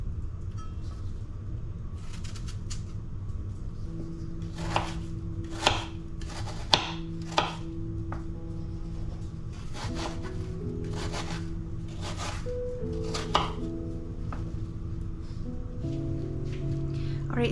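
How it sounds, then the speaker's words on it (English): An apple is diced into small chunks with a knife, a series of crisp, uneven chops on a board over a low background hum. "we are going to need 1 apple diced into small little chunks"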